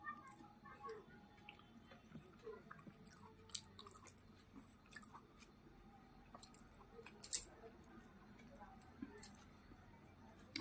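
Faint, close chewing of khichuri made with cabbage and cauliflower, with soft wet mouth sounds and an occasional small crunch over a quiet background.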